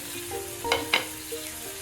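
Tomatoes sizzle softly in a pan with golden garlic, with a couple of brief stirring scrapes; quiet and close, no talking.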